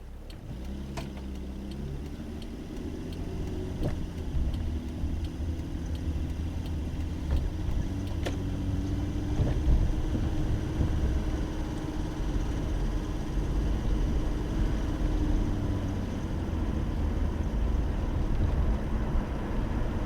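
A car drives through downtown Omaha past riverfront park construction, heard from inside as a low, steady engine and road rumble with occasional faint ticks, no one talking.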